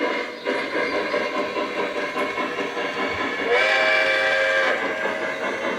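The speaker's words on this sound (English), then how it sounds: "And the engine is moving." A Lionel model train engine runs steadily on its track with a continuous close rumble, and a sustained whistle tone sounds partway through.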